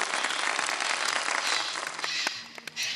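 A studio audience claps loudly through a televised iftar kids' segment, dense continuous applause with a few sharper claps standing out near the end.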